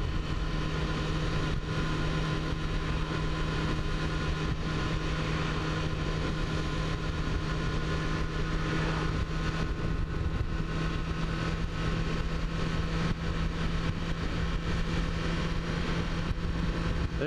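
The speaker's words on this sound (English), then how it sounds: "The exhaust is really quiet on this bike" A 2005 Yamaha FZ6 motorcycle with a quiet dual exhaust idles steadily, a constant low engine hum with a faint whine, close by and unbroken, with no voices.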